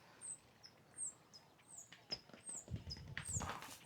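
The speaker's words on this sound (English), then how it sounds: "Those birds were just flying all over the place." Birds give short, high, repeated chirps while flying around, some near and some farther off, over soft outdoor noise with a few low thuds and rustles toward the end.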